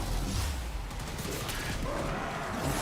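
Continuous Latham rifle gunfire and combat effects in the video game Warframe form a dense, loud barrage with no clear gaps.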